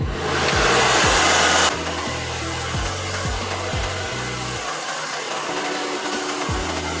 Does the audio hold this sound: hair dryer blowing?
yes